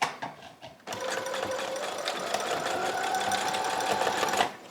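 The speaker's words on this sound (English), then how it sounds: "I like to sew my elastic after I put it in a knot. I like to sew it a few times." A sewing machine stitching elastic for a rose scrunchie, starting after a brief pause and running as a steady, close mechanical whir for about four seconds before stopping.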